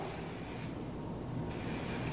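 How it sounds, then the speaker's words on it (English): Evo Miss Malleable flexible hold hairspray, heard as a steady close hiss of aerosol spraying onto hair, with a short pause midway before spraying resumes. "So now I'm just going to use a finishing spray, a flexible hold hairspray."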